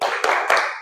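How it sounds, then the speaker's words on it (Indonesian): A classroom group claps out a short 'tepuk salut' routine: two or three close, sharp bursts of hands in under a second. "Untuk semua kelompok kita berikan tepuk salut."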